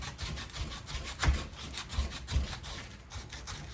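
Hand sanding on a horseshoe knife, working out scratches in the steel: steady rubbing strokes in a loose back-and-forth rhythm, close and fairly quiet, with a few firmer passes standing out, no voices.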